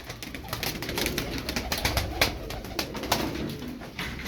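Tumbler pigeons coo softly amid a dense, busy background of fluttering and rustling, the birds close by in a cramped coop.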